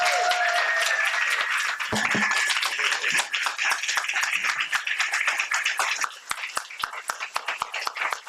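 An audience breaks into long applause for a visiting scholar at a memorial law lecture, dense clapping that starts loud and gradually thins into scattered claps by the end.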